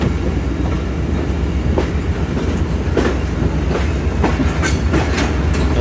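The Millat Express passenger train pulls out of the station with steady rumbling, rhythmic clickety-clack of wheels over crossovers and brief metallic squeals, loud and close throughout.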